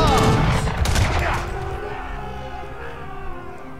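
A burst of booming cannon fire and explosions in Age of Empires 3 opens loudly, then fades into a lower rumble with faint, muffled voices.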